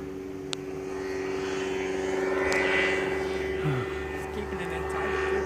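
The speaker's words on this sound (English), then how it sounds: "He's flying a better pattern than most guys do in the RC planes here." A radio-controlled model airplane at an aero modelers' flying field buzzes overhead with a steady, droning propeller engine note that rises and shifts in pitch as it passes, with faint background noise.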